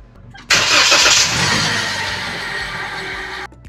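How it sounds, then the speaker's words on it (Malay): A Perodua Bezza car's engine cranks and catches with a sudden loud roar, then settles into a steady, slightly fading idle before cutting off after about three seconds, with no voices. "Okey, sekarang kita akan start kereta."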